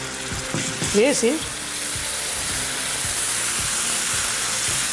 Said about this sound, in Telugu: ఉల్లిపాయలు కొంచెం వేగిన తర్వాత మనం చేసి పెట్టుకున్న కొత్తిమీర, జీడిపప్పు, మన అల్లం పేస్ట్ ఇందులో వేసేసుకుందాం.